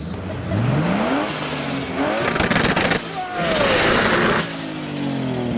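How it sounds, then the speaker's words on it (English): Turbocharged BMW E36 with a front-mounted side pipe rolling into an evening car meet, its engine revving up and down through several loud, rising surges with whistling turbo tones, close by amid crowd noise. "Next along we have the turbocharged E36 entering the meet."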